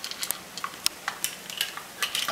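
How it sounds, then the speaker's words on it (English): Spoon stirring food in a dish for a baby, a run of light, close scraping clinks and taps with an irregular rhythm, quiet and alone without talk. "Or you're just mixing it with the spoon."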